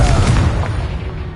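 A Confringo fire spell explodes in Hogwarts Legacy with a loud, close, booming blast that rolls out into a dull rumbling decay.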